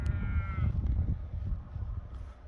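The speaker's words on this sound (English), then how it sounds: "Field full of sheep." A single drawn-out sheep bleat near the start from a field full of sheep, heard over low wind rumble, followed by quieter outdoor background.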